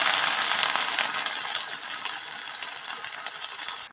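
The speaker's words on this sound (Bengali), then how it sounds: "এখন আমি একটা একটা করে পাকোড়াগুলো ছেড়ে দিচ্ছি।" Cabbage pakoras fry in a pan of hot oil with a loud, dense crackling sizzle, strongest at the start and easing slightly, with a few sharper pops near the end and no talking.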